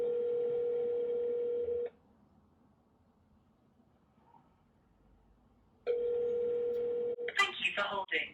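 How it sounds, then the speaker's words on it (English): Telephone ringback tone heard through a handset: a steady buzzing ring lasting about two seconds, a long silent gap, then a second ring, followed by a recorded Vodafone voicemail message starting to speak. "let's make a few phone calls and let's see how we go"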